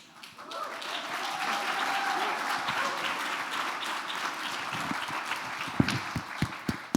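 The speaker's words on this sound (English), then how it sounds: "Anytime you want to bust in and applaud, it's fine tonight" Audience applause at the 2019 Sentinel Awards ceremony, a steady wash of many hands clapping that fills the room, with a few sharper individual claps standing out near the end.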